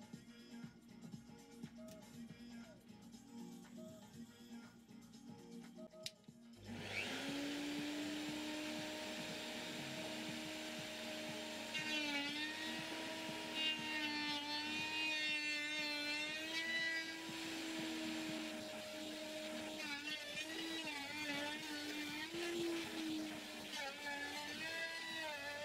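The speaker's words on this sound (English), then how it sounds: "I zero the bit on a workpiece, then use a 1mm packer to set the depth stop for each pass." A Mafell FM1000 router machining a workpiece on a router sled starts up partway through with a loud, steady whine. Its pitch wavers slightly as it cuts. Before it starts there is only quiet background hum.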